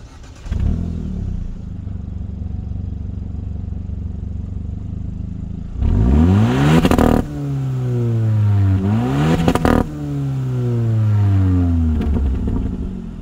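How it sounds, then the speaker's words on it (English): A 2023 Hyundai Elantra N-Line's 201-horsepower turbocharged engine idles, then is blipped in two loud, sharp revs that rise and fall back, each followed by a steady settling idle, close up with no talk. "Under the hood, the N-Line brings the upgraded turbocharged engine, cranking out 201 horsepower."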